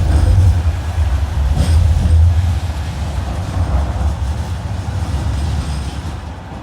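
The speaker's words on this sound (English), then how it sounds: "we're going to get on a tram to Eccles and do the Eccles line" Steady low rumble and rattle from inside a moving Manchester Metrolink tram on the Eccles line, with wheel and track noise that eases slightly over time, no talking.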